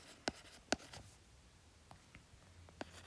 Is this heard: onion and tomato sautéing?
no